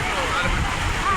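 Rushing floodwater from heavy rain in North Karnataka, pouring against a washed-out bridge where a tipper truck is stuck: a dense, continuous roar of water, loud and close, with no talk.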